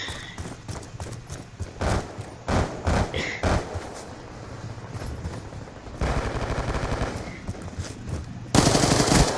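Rapid bursts of video game gunfire crack out in short volleys, with a sustained stretch of automatic fire and a loud final burst near the end.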